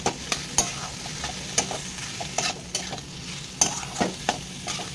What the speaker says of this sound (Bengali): মোচাটা দিয়ে দিয়েছি, দিয়ে ভালো করে কষিয়ে নেব।